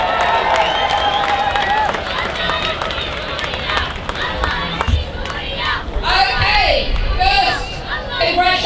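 A crowd at a political gathering cheers and applauds to welcome Natalie Bennett, a loud, sustained mix of clapping, shouts and whoops with voices throughout.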